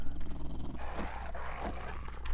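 A dog growls in the video game 7 Days to Die, a low, rough, snarling rumble held close and loud for a couple of seconds.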